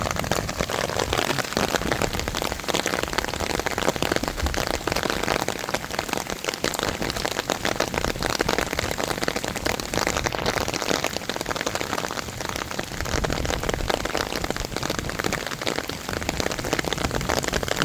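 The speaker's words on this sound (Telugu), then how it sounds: "ఫస్ట్ ఏమో రాళ్ళు పడ్డాయి, ఇప్పుడు వర్షం పడుతుంది." Rain and hailstones pour down steadily during a hailstorm, a dense continuous patter and hiss with no break throughout.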